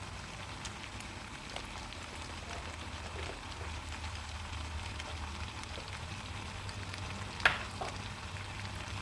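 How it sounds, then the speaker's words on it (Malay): Tom yum fried spaghetti is stirred in a pan, giving a steady sizzle and frying hiss with soft scraping of the utensil throughout and one sharper clink near the end. "Kacau-kacau lagi sehingga sebati."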